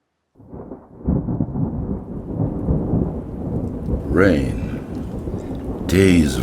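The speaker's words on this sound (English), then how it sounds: "Rain. Days of rain." Heavy rain pours steadily with deep rolling rumbles of thunder underneath, and a voice speaks briefly over the storm near the end.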